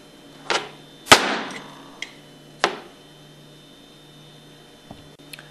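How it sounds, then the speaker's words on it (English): A hammer strikes a screwdriver blade set against the steel casing of a roller pump seal on a Hypro 7560 series pump: a few sharp, close metallic taps spaced irregularly, with quieter clicks afterward. "place it against the inside of the steel casing of the seal and tap it out with a hammer"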